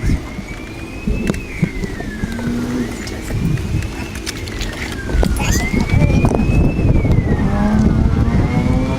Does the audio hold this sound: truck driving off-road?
yes